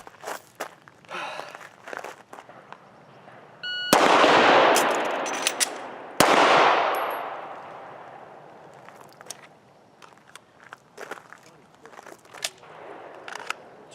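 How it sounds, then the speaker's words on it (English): Two loud, sharp pistol shots from a Smith & Wesson M&P9 ring out a couple of seconds apart, each with a decaying echo, with quiet handling clicks of a magazine change and chambering a round before and after. "on the timer, I would fire one shot, which induced a slide lock. I would have to perform a magazine change, chamber a round, and then fire a shot"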